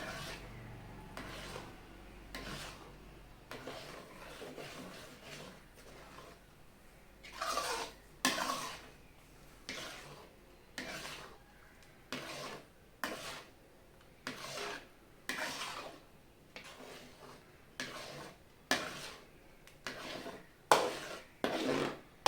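Halwa made with rice-water starch and ghee is stirred in a pan, giving repeated scraping, rubbing strokes in a steady rhythm that grow louder and quicker toward the end, close up with no talking.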